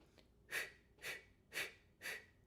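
A singer's inhales during a vocal warm-up: four sharp, breathy intakes of air spaced evenly about half a second apart, close and clear over a quiet background.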